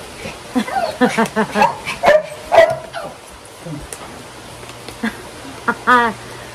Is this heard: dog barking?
yes